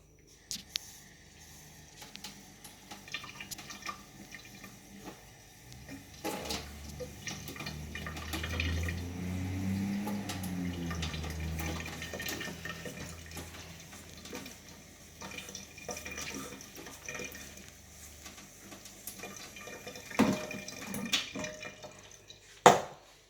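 Water trickles and splashes softly into a bowl of flour and salt for fried bread dough, with light kitchen clatter and a few knocks around it; no talking.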